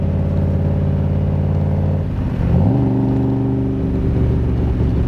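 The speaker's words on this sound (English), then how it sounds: "Going through the gears in this Tremec 5-speed, just as easy as can be." A 1965 Shelby Cobra replica by Superformance, an MkI with a Tremec 5-speed, holds a steady loud engine drone, dips briefly during a gear change, then settles at a lower pitch, no talking.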